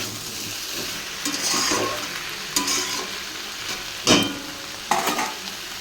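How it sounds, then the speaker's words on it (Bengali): Prawns and chopped vegetables with onion, salt and turmeric sauté in a pan with a constant sizzle. Occasional sharp scrapes and knocks of stirring cut through, and no one speaks. "ভালো করে সবজিটা কষিয়ে নেব"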